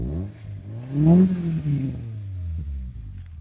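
A 1994 Toyota Corolla engine idles close by, rises in a quick rev, then settles back to a low steady rumble.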